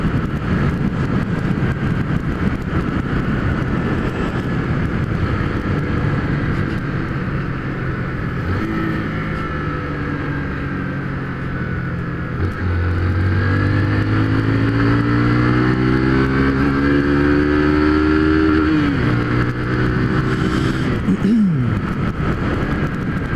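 A Honda Fan 150 motorcycle rides along a road, its engine droning steadily and loudly up close, with rising and falling revs as it shifts through gears and accelerates, plus wind rush throughout.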